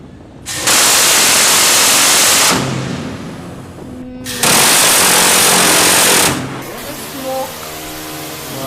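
An M61 Vulcan Gatling gun fires two loud, sustained bursts, each a dense continuous roar about two seconds long with a short pause between, followed by a lingering hiss and rumble.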